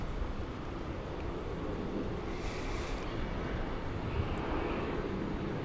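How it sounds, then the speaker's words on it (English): An Airbus A321 airliner arriving from Sacramento at DFW Airport at night gives a steady, distant jet rumble that holds evenly throughout, with no voices. "Got an Airbus A321 coming in from Sacramento, California."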